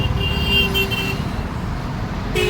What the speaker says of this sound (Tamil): டிராஃபிக் செமையாக இருக்குது